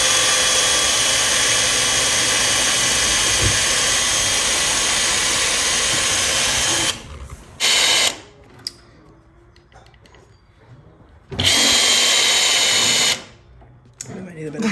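A power drill drilling into a wooden table whirs continuously for several seconds, then stops; a couple of short bursts follow amid quieter handling noise.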